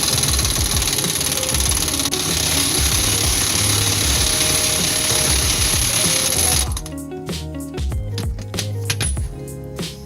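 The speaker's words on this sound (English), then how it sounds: "So I'm going to take my impact, about 29 millimeter," A loud impact wrench with a 29 mm socket hammers on a Dana 30 axle yoke in a rapid continuous rattle for several seconds, then cuts off, leaving faint clinks and clattering.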